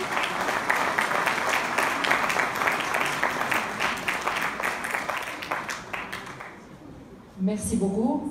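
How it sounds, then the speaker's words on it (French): Sustained audience applause at a women entrepreneurs' awards ceremony in 2019, dense clapping from a crowd that fades slightly before a voice speaks at the end. "Applaudissez s'il vous plaît."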